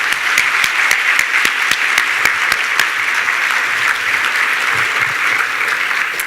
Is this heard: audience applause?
yes